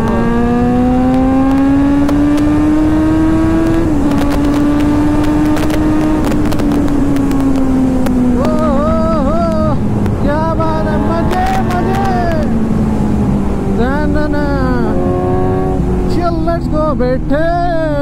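Kawasaki Z900 motorcycle accelerating on a ride, its engine note rising and falling through several gear pulls, loud and continuous, with a spoken voice over the engine.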